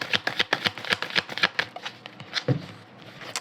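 Tarot cards are shuffled in quick riffling bursts, a rapid run of crisp flutters that slows and fades, with a soft tap near the end.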